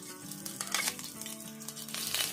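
Half a teaspoon of ginger-garlic paste sizzling and crackling as it fries in hot oil, a steady bright hiss with small pops, close and fairly quiet.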